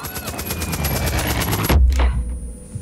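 Sustained rapid machine-gun fire in the video game Far Cry 5, loud and evenly pulsed, cutting off sharply and followed by a deep heavy boom and a few fainter trailing shots.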